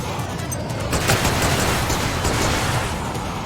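Sustained gunfire in the mech combat game Project Nimbus, a dense, steady barrage of rapid shots and rumbling booms, loud and continuous with no talk.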